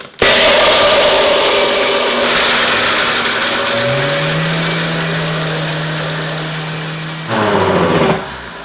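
Two food processors run together grinding hazelnuts and cashews into nut butter, a loud continuous motor whir whose pitch shifts partway through, with a brief louder surge near the end.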